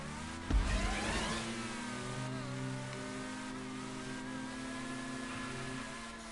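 A car engine in GTA 5 revs up sharply after a thump, then settles into a steady mid-pitched drone with shifting tone, close and moderately loud with no talk.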